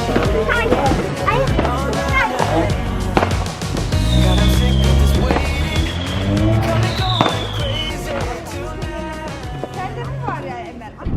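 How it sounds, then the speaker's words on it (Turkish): Fireworks and firecrackers set off outside homes on New Year's Eve in the Netherlands, a dense continuous crackle and popping with whistling rockets rising, close and loud, with people talking throughout. "neredeyse herkes dışarı çıkar evin önünde havai fişek atar"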